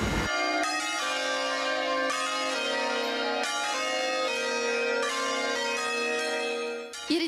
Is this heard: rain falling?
no